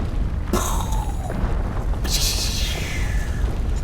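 A long, rolling explosion in the video game Planet Crafter, a loud sustained boom with renewed bursts and crackling roar that keeps rumbling for several seconds.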